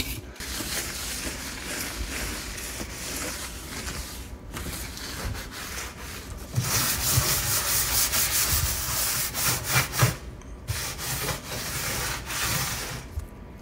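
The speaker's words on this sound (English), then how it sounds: "getting a little water in here and the barkeeper's friend, give it a good scrub" A pad scrubs hard with water and Bar Keepers Friend cleanser, making continuous close rasping strokes that grow louder and more vigorous halfway through, with brief pauses between passes.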